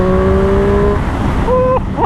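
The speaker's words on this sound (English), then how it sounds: "Every time I rev, I go nuts on it." A Triumph Street Triple motorcycle engine revs on a ride, a steady loud engine tone holding then dropping and climbing again with a couple of short blips, heard close alone.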